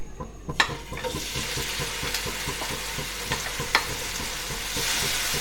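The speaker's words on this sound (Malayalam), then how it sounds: "അത് ഇതുപോലെ നമുക്കൊന്ന് ചെറുതായിട്ട് ഷാലോ ഫ്രൈ ചെയ്തെടുക്കാം" Masala-coated vegetables shallow frying in hot oil for paneer tikka masala, a steady close sizzle with frequent clinks and scrapes of a utensil stirring in the pan.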